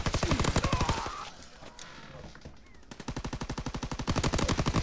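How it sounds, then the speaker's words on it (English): Rapid automatic gunfire in a multiplayer shooter game, aimed at a UAV overhead: two long, steady bursts of evenly spaced shots, loud and close, split by a short quieter gap. "they're trying to shoot down the UAV"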